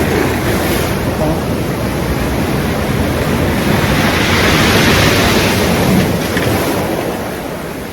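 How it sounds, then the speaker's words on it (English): Surf crashes and churns against a rocky beach in a loud, steady roar that swells slightly midway and eases at the end, with wind buffeting the microphone. "that sound you hear, this is a really rocky beach"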